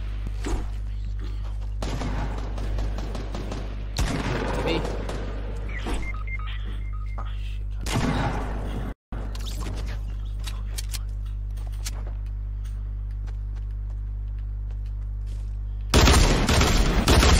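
Gunfire in Fortnite: bursts of rapid shots with occasional single cracks, loud and close, over a steady low electrical hum, with one brief dropout midway.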